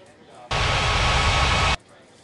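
Airliner landing at Ngurah Rai Bali International in Unmatched Air Traffic Control, a video game: a loud, steady broadband jet roar that bursts in abruptly and cuts off about a second later over faint background.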